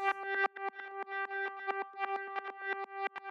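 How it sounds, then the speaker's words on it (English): A lead synth sample run through a granulizer effect for a UK garage track sounds as a choppy, stuttering run of bright tonal grains, with rapid rhythmic bursts at a steady pitch and no talking. "I threw it in the granulizer, and it made it sound like this."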